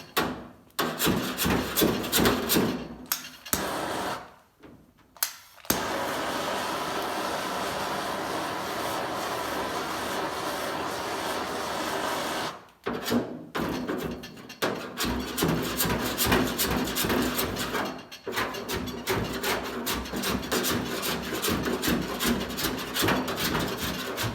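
Old paint being scraped off the door skin of a 1950 Plymouth gives long, rough, rasping strokes that come and go with a few short pauses, close and fairly loud, with no talk.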